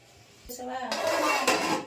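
A metal cooking pot of marinated fish curry clatters as it is set down, followed by a scrape and a brief clank of kitchenware; a voice speaks faintly at the start.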